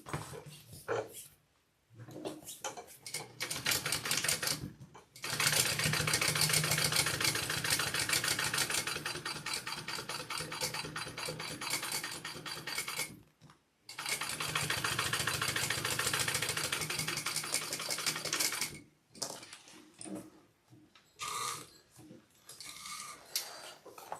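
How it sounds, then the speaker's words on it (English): Sewing machine running in long steady bursts while stitching a second row on a handmade Siah Sidekick bag, with brief pauses between runs; the motor hum and rapid needle chatter sound close and fairly loud, with no talking. "now I'm going to do a second row of stitching"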